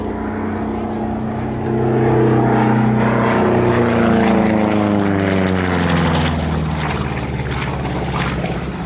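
A 1943 Republic Aviation propeller warplane, the only one of its kind still flying, passes at an Oshkosh airshow: a loud, steady droning engine with a falling pitch as it goes by, holding strong for several seconds.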